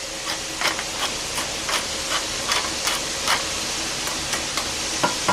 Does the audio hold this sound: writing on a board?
no